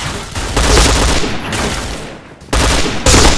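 Rapid bursts of gunfire from the Indonesian Point Blank shooter game, loud and dense, running as continuous volleys with brief breaks between them and no talk.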